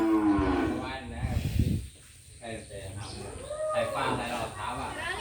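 Cattle in a flooded cow pen moo loudly and close by in long, drawn-out calls, with a person speaking between and over the lowing.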